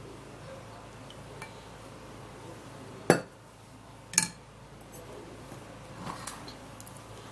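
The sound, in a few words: egg being cracked into a bowl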